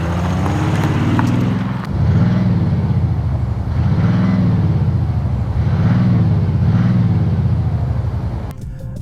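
A 2020 Audi S6 diesel engine with a synthetic noise emulator gives a loud, close, deep drone that swells and eases in slow rhythmic waves, imitating a V8 growl.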